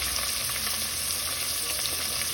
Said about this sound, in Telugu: ఉల్లిపాయలు, పచ్చిమిర్చి బాగా వేయించుకోవాలండి.